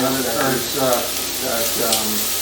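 Steak bites sear in a hot pan, seasoned with Cajun spice, giving a steady loud sizzle and crackle throughout, with a person talking over the frying.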